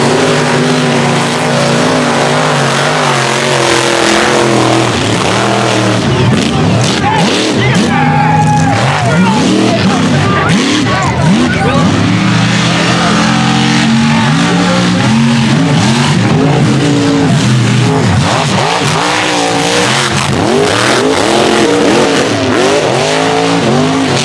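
Mega trucks race at the North vs South 2019 event, loud engines revving and roaring nonstop with tires squealing and wavering pitch, a crowd and a commentator's voice mixed in throughout.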